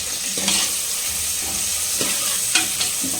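Onions with cardamom sizzle on high flame for restaurant-style chicken kurma, a continuous close frying hiss broken by a few soft spatula scrapes and stirs.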